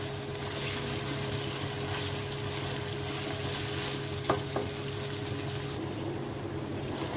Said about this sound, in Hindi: चिकन को अच्छी तरीके से अदरक लहसुन के साथ फ्राई करेंगे, इतना कि इसका कलर चेंज हो जाए।